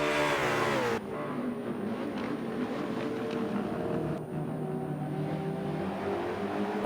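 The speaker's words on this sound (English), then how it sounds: "Battle between the two McLarens still rages on." McLaren race cars roar around Laguna Seca in a Michelin Pilot Challenge race, a loud, sustained engine drone that cuts sharply after the first second into a steadier, slightly changing whine, with no voices.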